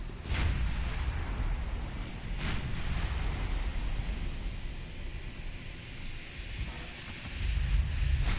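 Warship main guns fire a salvo in a naval battle game set in the dreadnought era, heard as a few distant, booming blasts spread across a constant rumbling wash of sea and wind noise.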